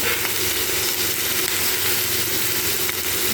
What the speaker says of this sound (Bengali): তারপর লবণ হলুদ দিয়ে এটাকে ভালোভাবে ভাজবো